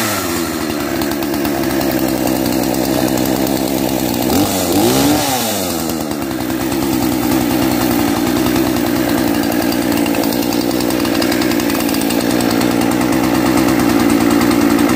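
A warm Husqvarna 236 chainsaw, its carburetor compression fault repaired, runs loud and close with a steady buzzing engine note that dips and surges briefly partway through before settling back to an even drone, with no talking.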